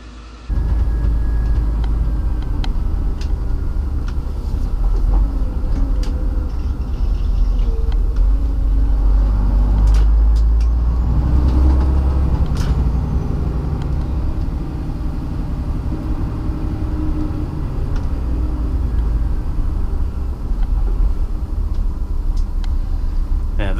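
Steady road traffic at night heard from inside a truck on a cement delivery run: continuous low engine rumble and road noise with passing vehicles swelling and fading, loud and unbroken throughout, with no clear speech.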